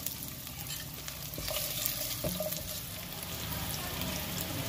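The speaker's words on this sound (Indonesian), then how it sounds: "kita tumis bawang putih" Garlic, onion and ginger stir-frying in a pan for Mongolian beef, a steady close sizzle with occasional scraping stirs.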